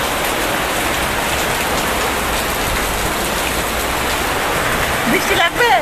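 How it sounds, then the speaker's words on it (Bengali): Steady, loud rain pours down close by, a dense continuous patter on surfaces, with a voice briefly breaking in at the very end. "এই দেখো বৃষ্টি পড়ছে"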